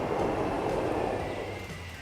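A train in the Transport Fever simulation game rolls in steadily, with a continuous low rumble and wheel noise that fades slightly as it settles, without any talk.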